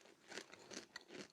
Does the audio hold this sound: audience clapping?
no